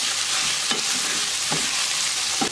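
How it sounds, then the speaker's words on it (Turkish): Chopped onions sautéing with chicken in a hot pan give a loud, continuous frying sizzle, with three brief scraping stir strokes spaced across it and no talking. "İlave edip soğanlar da pembe reçeli kadar kavuruyorum."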